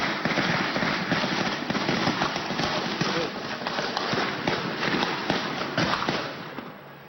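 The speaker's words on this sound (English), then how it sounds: "We know they exchanged gunfire." A rapid burst of many sharp cracks and pops, an exchange of gunfire in quick succession, fairly loud and continuous throughout.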